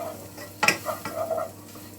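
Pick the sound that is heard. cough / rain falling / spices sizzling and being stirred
spices sizzling and being stirred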